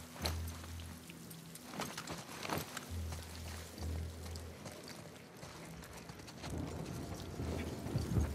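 Horse hooves clip-clopping in The Last of Us Part II, set in Seattle, in short bursts of steady trotting beats amid rain-like background noise, fairly close, with no speech over them.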